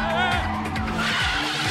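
Car drifting in the Initial D anime, with loud, close tire squeal and engine whine sliding through sweeping pitch bends, plus a short voice underneath.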